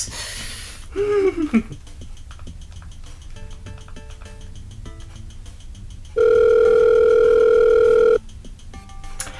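A call placed to an old Epic MegaGames phone number: a chirping dial or ringback tone, some scattered clicks and beeps, then a loud steady tone lasting about two seconds before the line goes quiet.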